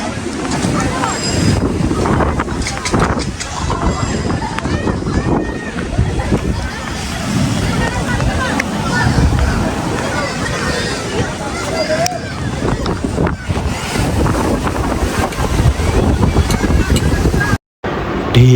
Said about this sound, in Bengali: ঢেউ দেখো কেমন সামনে চলে এসেছে